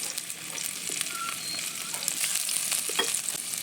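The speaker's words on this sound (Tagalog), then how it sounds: "At kapag ito ay mainit na, pwede na natin igisa yung bawang." Garlic sautéing in hot cooking oil in a pan, a steady bright sizzle with scattered pops and crackles running continuously, close and moderately loud with no talking.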